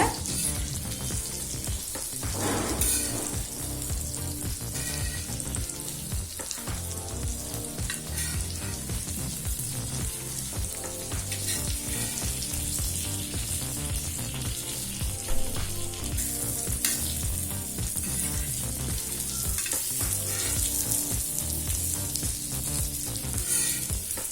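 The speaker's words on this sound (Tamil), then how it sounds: "இப்போ முட்டையை 2 சைடும் நல்லா வறுத்தாச்சுங்க." Egg pieces fry in a pan for an egg fry, a dense, continuous close-up sizzle crackling with oil for the whole stretch, occasional utensil scrapes and clinks as the food is stirred, no voices.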